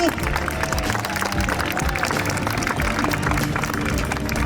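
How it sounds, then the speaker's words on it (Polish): Crowd applause at a horseback riding show at a castle, steady broad clapping from an outdoor audience, continuous and fairly even in level, with some voices mixed in. "Wielkie brawa"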